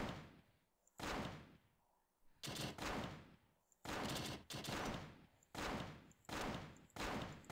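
Gunfire in the video game The Devil Inside: repeated loud bursts of rapid shots in uneven volleys separated by short pauses, close and harsh, with no clear talking.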